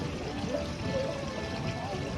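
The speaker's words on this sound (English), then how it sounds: "allow the water to fan out the material across the pan, like so" Water sloshing and swirling in a gold pan during panning, soft trickling and pouring sounds at close range, fairly quiet and uneven, with a faint tonal hum underneath.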